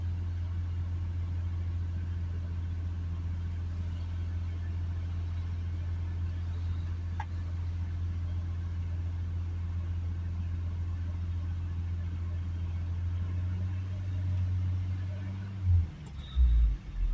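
A Vauxhall Vivaro 1.6 van engine idling steadily with a low, even hum, close by, which stumbles and cuts out near the end.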